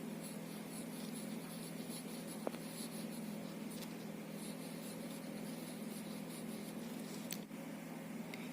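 Pen or pencil writing examples in a notebook, a steady soft scratching over faint background hiss with a couple of small taps, close and quiet with no talking.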